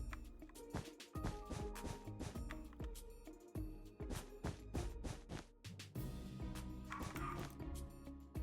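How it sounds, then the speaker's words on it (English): Dog barking in a Minecraft-style build battle game, a series of sharp, loud yips and barks in quick bursts over busy game sounds. "Bark, bark."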